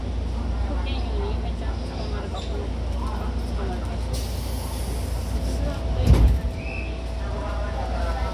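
A JR Yamatoji Line 201 series rapid train bound for Nara running between stations, with a steady low rumble and rolling hum inside the car, a brief louder clunk about two-thirds through.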